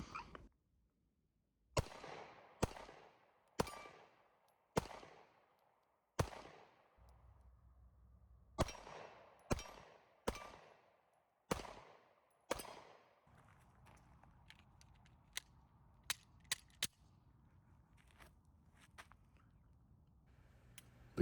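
A Taurus GX4 pistol fires a string of sharp, loud shots at an outdoor range, spaced irregularly about a second apart. Each crack is followed by a short decay, and quieter clicks and clatter follow.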